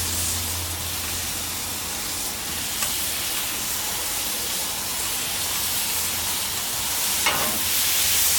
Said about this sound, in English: we're going to make sure the vegetables get a little bit softened and the turkey gets a little more brown